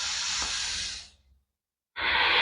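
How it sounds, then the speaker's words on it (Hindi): A long, deep breath during a yoga breathing exercise: a steady, airy rush of air for over a second, then a brief pause before the next strong breath begins, close and alone. "गहरा सांस लें"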